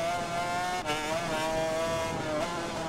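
A two-stroke MMX 500 racing motorcycle engine from the Ride 4 video game drones loudly and continuously, with a brief dip in pitch as the rider shifts before pulling again.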